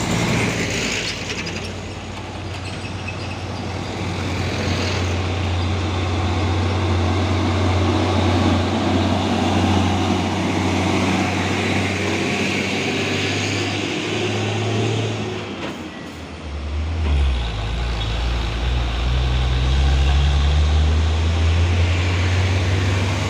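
A Hino 500 truck engine drones steadily on a climbing road, a loud low rumble with mechanical rattling, dipping briefly then returning as the engine revs up again.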